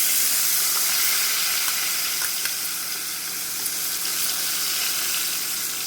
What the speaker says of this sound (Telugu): కొంచెం జీలకర్ర, కొంచెం మినప్పప్పు, పసుపు. ఇవి కొంచెం ఫ్రై అవ్వనియండి.